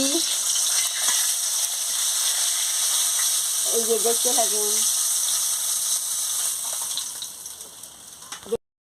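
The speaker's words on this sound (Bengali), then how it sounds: "এক এক করে আমি মাছগুলো ভেজে নিচ্ছি" Bata fish frying one by one in hot oil in a pan, a constant bright sizzling hiss throughout, with a brief spoken voice in the middle.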